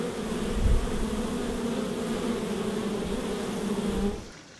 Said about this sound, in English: the bees will actually stand in the opening of the hive and they'll blow the air out or suck the air in